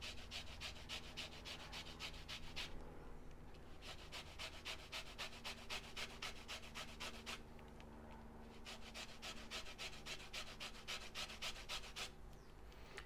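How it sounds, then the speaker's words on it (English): Clementine peel rubbed over a grater for a chocolate and orange marble loaf cake, rapid rhythmic rasping strokes in two long runs separated by short pauses, close and fairly quiet. "These ones don't grate very well. These are clementines."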